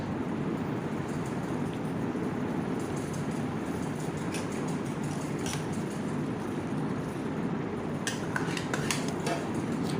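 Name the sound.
mixing mango puree into cold milk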